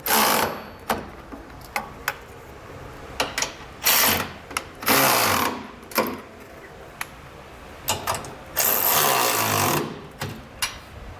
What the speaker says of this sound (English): we can grab a 3/4 inch wrench and socket and snug